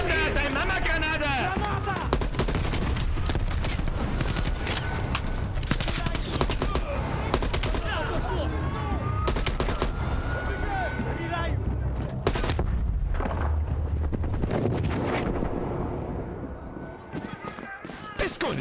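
Call of Duty: Black Ops Cold War firefight with rapid bursts of automatic gunfire and scattered single shots, loud and continuous for most of the stretch before thinning out near the end, with people talking throughout.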